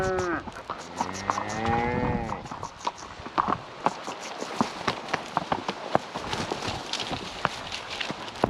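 Cattle lowing during a cattle drive on young horses, several drawn-out moos up close at the start, followed by scattered hoof clops and rustling, with people talking now and then.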